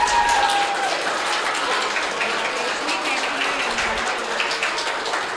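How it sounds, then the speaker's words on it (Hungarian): Crowd applause for runners at a village race awards gathering, a steady broadband wash of clapping sustained throughout at close, loud level. "Egy nagy tapsot kérek mindenkinek."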